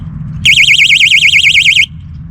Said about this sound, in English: there's nothing wrong with this bite alarm